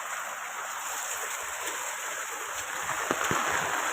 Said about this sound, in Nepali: यो नालीहरू चाहिँ सिधै बग्दैछ।